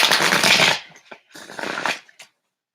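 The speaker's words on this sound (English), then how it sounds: "Just taking this opportunity to shuffle my decks." Riffling shuffles of a tarot card deck, two close, crisp bursts of fluttering cards separated by a short pause, ending in a light tap.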